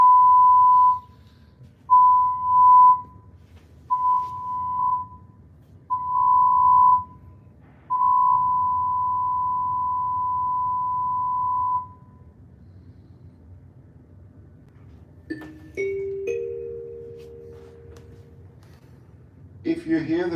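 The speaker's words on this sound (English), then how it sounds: "please stand by for the emergency signal" Cruise ship emergency alarm signal aboard Celebrity Edge, a series of loud steady tones, short blasts growing longer and ending in one sustained blast, followed by chime tones and the start of talk.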